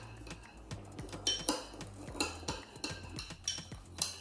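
A utensil stirs sugar into thick Greek yogurt in a bowl, giving quiet, repeated clinks and taps against the dish in an uneven rhythm, close up with no talking.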